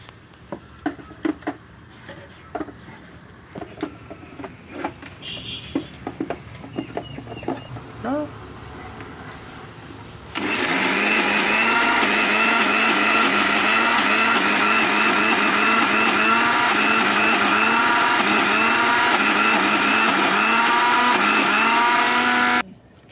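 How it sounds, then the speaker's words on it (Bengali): A mixer grinder blends prawn paste with ginger, starting suddenly after a stretch of quieter clinks and handling noises and then running as a loud, steady whirring drone with a pulsing edge until it stops. "এবারে আমি এটাকে ভালো করে মিক্সারে দিই"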